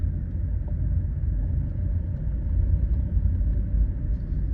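A VW Polo Vivo 1.4 Trendline rolls along a smooth suburban street in Mhlanga, heard as a steady low road and engine rumble from inside the cabin, with no voices.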